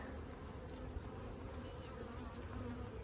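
Honey bees buzzing steadily around an open hive during a summer honey harvest, a continuous close drone of many insects throughout.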